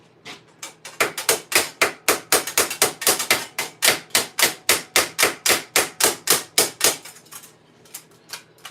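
Steady metallic hammer taps tightening a rivet on a steel half gauntlet, around thirty close, sharp strikes in a quick even rhythm that stop near the end.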